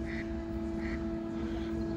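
Electric motors of a lifting road bridge hum steadily with a sustained tonal drone and low rumble, constant and moderately distant, while a sailboat passes through.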